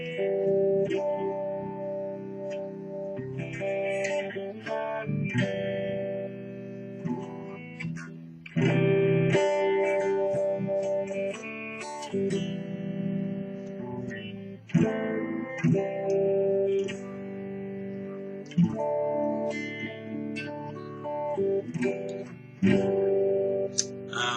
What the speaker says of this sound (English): So this is the neck humbucker, clean.